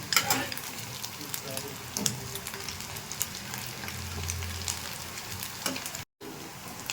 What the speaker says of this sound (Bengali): বাকিগুলো আমি ভেজে নেব